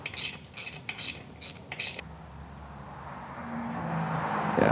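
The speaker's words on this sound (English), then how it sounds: "let me get a wrench and we'll start installing these" A hand wrench ratchets in several quick clicking bursts while tightening bolts on an SR20 engine, followed by a low, steady background hum.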